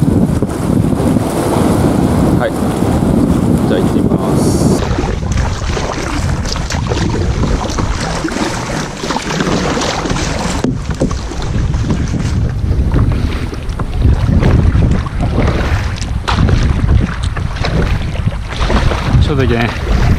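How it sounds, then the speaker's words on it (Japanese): Strong wind buffets the microphone while boating on a reservoir, a loud, continuous roaring rush with gusty surges throughout and water noise beneath. "今日は風が強い。"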